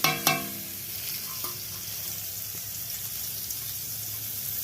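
Potatoes fry in hot oil in a pan as onion is tossed in for basanti polao, a couple of sharp knocks at first, then a steady, close sizzle with no one talking.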